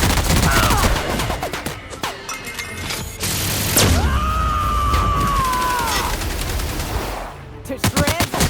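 Rapid automatic turret gunfire in The Outer Worlds: Peril on Gorgon, loud bursts with booms and impacts mixed with game effects and a shouting voice.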